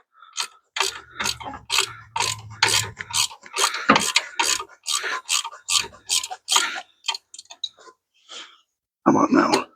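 A ratchet tightening the belt on a 1993 Jeep Wrangler, giving a fast run of close, sharp clicks in quick repeated bursts with short pauses, and a voice briefly heard.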